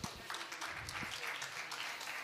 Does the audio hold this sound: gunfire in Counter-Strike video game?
no